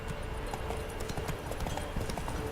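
Horse hooves clip-clopping at a steady run in The Witcher 3, a continuous rhythmic stream of close, moderately loud hoofbeats with no talk over them.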